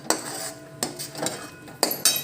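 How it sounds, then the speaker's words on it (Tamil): Metal measuring cup clinking against a milk pan as a quarter cup of sugar goes into milk for milk peda: four sharp, bright clinks spaced irregularly over a quiet background. "மெஷரிங் கப்பில் 1/4 கப் சுகர் எடுத்து நான் இப்போது சேர்க்குறேன்."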